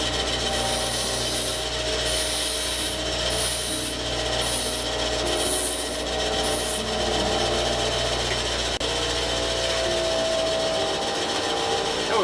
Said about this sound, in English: We just fire up the grinder.